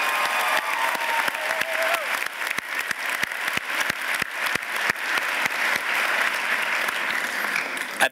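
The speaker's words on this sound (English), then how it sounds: "Please, one more round of applause for both of our outstanding student speakers." Sustained crowd applause at a community college commencement ceremony, steady dense clapping from a large audience with periodic sharp nearby claps cutting through, continuing throughout.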